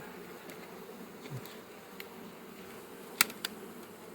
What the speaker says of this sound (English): So this is a full colony of bees.